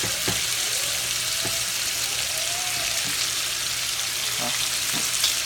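A ham omelet sizzles and crackles steadily in a frying pan, loud and close, with a few faint clicks of a utensil against the pan and no talk.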